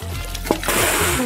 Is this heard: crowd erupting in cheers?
no